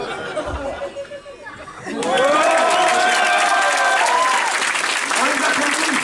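Studio audience applauding performers on a French TV show, a loud sustained wave of clapping with cheering and crowd chatter swelling in after a quieter stretch, with music tones ringing underneath.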